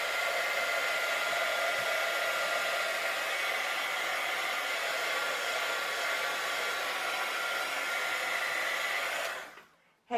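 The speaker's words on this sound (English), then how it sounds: "instead of hearing me blow dry for 5 minutes" Hair dryer blowing air over a wet mixed media art journal page, a loud steady close roar for nearly ten seconds before it switches off and winds down abruptly at the end.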